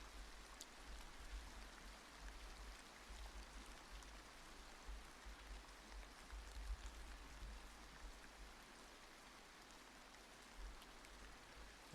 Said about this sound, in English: hence the rain sounds in the back